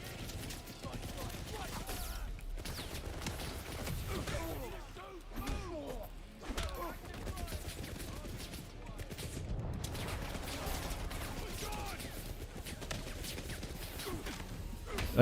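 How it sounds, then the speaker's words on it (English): Gunfire rattles in the video game 007 First Light, with bursts of shots, thuds and impacts mixed into busy game action. A voice talks over parts of it. "I was trying to shoot the gas tank, yet the guy kept getting in the way of it."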